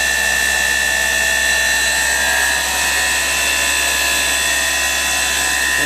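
Live rotary tools on a KSI SQC-38 CNC Swiss-type lathe spin at about 4,000 RPM, a loud, steady, high-pitched whine heard from very close range, continuous and with no voices.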